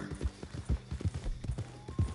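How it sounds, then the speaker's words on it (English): Wild horses in the Red Dead Online video game clop over the ground in quick, uneven hoofbeats. The hooves sound moderately close, with faint background sound. "Those are just wild horses."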